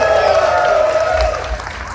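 Crowd at a vegan festival clapping, a steady wash of applause under someone speaking nearby, tapering slightly toward the end.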